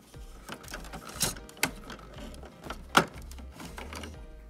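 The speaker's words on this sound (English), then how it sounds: "I'm gonna take the printer head out" Removing the print head from an edible printer produces a few sharp plastic clicks and snaps spread over several seconds, over a low mechanical hum and soft handling noise.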